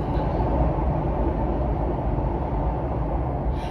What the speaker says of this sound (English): as much as I love living by the train,